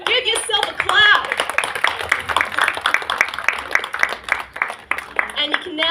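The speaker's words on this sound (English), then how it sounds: "Give yourself a clap." A festival ceremony crowd claps together in a dense burst of many hands, with cheering voices mixed through the applause.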